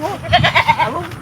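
A goat bleats nearby in short, wavering cries.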